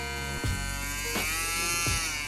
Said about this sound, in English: You'll hear the blade ramp back up.